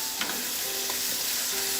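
Beef nihari frying in spices while a spoon stirs it, a constant bright sizzle with light scraping knocks of the spoon against the pot, close and continuous.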